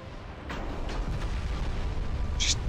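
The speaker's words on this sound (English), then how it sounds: "Another full salvo." Battleship guns firing a full salvo in the naval video game Ultimate Admiral Dreadnoughts, deep rumbling booms rolling under a sharp crack near the end, with no talking.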